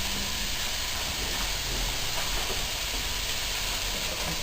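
Food sautéing in olive oil in a pan, a steady, fairly loud broadband sizzle and hiss that holds constant throughout, heard alone.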